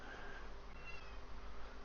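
Faint cat meows in a quiet room with a steady low hum, soft high drawn-out cries barely rising above the background.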